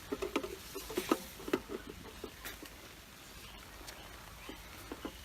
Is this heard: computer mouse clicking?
no